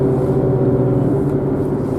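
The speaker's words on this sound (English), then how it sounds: "Look. Loud car now." A loud car drives by on a rainy, flooded road in Georgia or South Carolina, a steady low engine rumble heard close for a couple of seconds.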